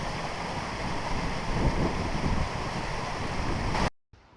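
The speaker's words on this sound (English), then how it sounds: "So here's an early waterfall for us." A waterfall at the head of Swindale valley in the Lake District gives a steady, broad rush of falling water, loud and unbroken, with wind buffeting the microphone before it cuts off abruptly near the end.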